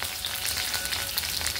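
Cumin, mustard seeds and curry leaves crackle in about a spoon and a half of hot oil for a dal tempering, a steady close sizzle dotted with small pops, heard alone.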